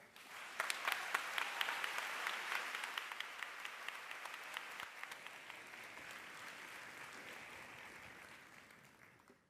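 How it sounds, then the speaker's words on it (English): An audience at a school district convocation applauds as the superintendent is welcomed, a dense, sustained wash of many hands clapping that swells, holds steady and slowly tapers off over nearly ten seconds. "I'd like a warm applause for Laura Baker"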